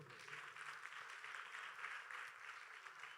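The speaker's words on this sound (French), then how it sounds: "On nous applaudit s'il vous plaît." Quiet, sustained applause from a crowd, even and continuous throughout, heard from some distance.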